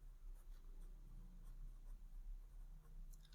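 Chalk or marker writing on a board during a Hindi-to-English grammar lesson, a steady faint scratching stroke sound running continuously at close range with no talk over it.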